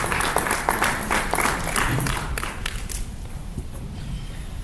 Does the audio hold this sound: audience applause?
yes